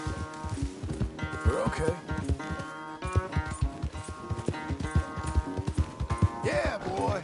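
Horse hooves clopping in Red Dead Redemption, a steady galloping rhythm of close, fairly loud footfalls under game music, with someone briefly speaking over them.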